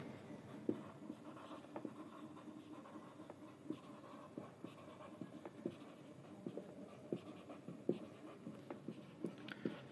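A teacher writes by hand on a board during a maths lesson, chalk or marker strokes tapping and scratching in short irregular bursts throughout, fairly quiet with no talk.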